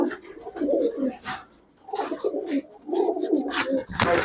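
Mujala pigeons, male and female, cooing in repeated soft throaty bursts close by, with short pauses between calls and faint background voices.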